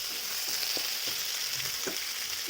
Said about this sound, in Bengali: এর মধ্যে মা দিয়ে দিচ্ছে কাঁচা লঙ্কা আর পেঁয়াজ কুচি করে কাটা